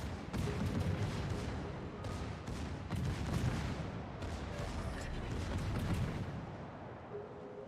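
Secondary guns on a warship in World of Warships fire in a rapid irregular series of booming reports, close and overlapping, with faint talk underneath.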